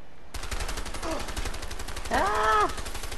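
Rapid automatic gunfire in the video game A Way Out, a steady close run of shots lasting the whole stretch, with a voice briefly cutting in over it near the end.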